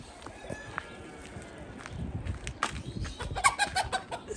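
Poultry let out of their coop give scattered clucks and calls, busier toward the end, along with rustling and footsteps in a yard during house plastering work.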